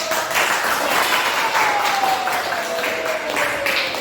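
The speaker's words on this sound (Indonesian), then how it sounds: "Tepuk tangan yang meriah" Classroom applause during an Islamic religious education teaching assessment, a dense steady patter of many hands filling the room at close range, with a faint voice or tone gliding underneath.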